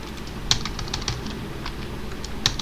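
Keys clatter on a computer keyboard in short irregular bursts, with a couple of sharper, louder strikes standing out as the enter key is pressed; close and alone, with no talk.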